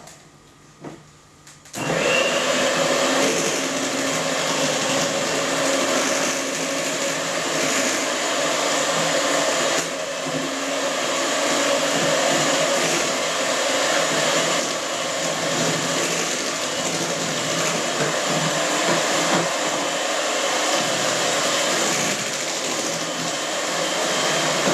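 An electric mixer whirs steadily for cheesecake batter, starting abruptly after a brief quiet moment and holding a loud, continuous drone with slight shifts in pitch throughout.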